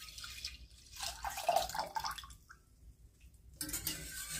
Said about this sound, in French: J'ai à peine mis la moitié de mon lait jusqu'à présent. Maintenant, je vais verser tout ce qui reste.